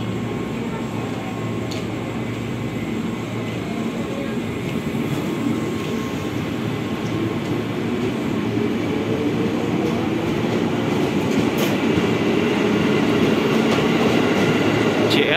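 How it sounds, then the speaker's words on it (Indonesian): A commuter train bound for Bogor rumbles steadily as it departs Bojonggede station, the low roar slowly building as it pulls away, with a brief metallic clank partway through. "Komuter lain kembali diberangkatkan menuju ke Bogor di jalur nomor 2."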